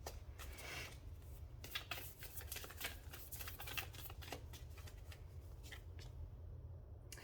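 Oracle cards are shuffled in a rapid, continuous run of soft riffling and flicking, close but very faint, with no talking.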